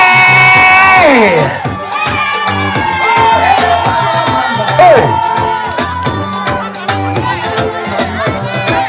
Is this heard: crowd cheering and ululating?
yes